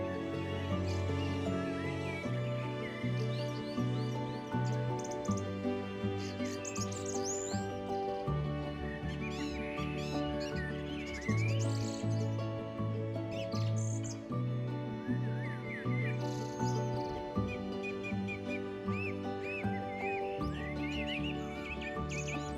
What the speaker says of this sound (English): birds follow closely behind, looking for insects and worms that the plow has turned up